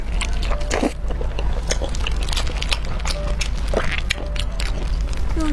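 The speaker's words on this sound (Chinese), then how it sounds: "今天我们吃捆绑肠粉。" Bundled rice noodle rolls being eaten up close, with repeated soft bites and wet chewing crackles over a constant low background hum, and no talking.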